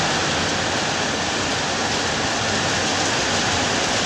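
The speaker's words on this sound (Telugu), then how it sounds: "చూడండి ఇప్పుడు కొద్దిగా తగ్గింది లైట్గా వర్షం" Light rain falls steadily in a village setting, a continuous soft hiss of drops with no clear individual hits and no voices, even and unbroken throughout.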